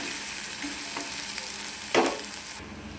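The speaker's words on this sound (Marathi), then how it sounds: "जिरे पण भाजले, त्यात कांदा टाका. कांदा असा हलवून घेऊ." Onion frying in oil with roasted cumin, stirred in a pan, a constant sizzle with light scraping stirs and one louder spoon clatter near the end, close up and without talk.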